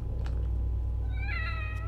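A cat meows in a video game, one clear drawn-out meow near the end, heard over a steady low mechanical background hum.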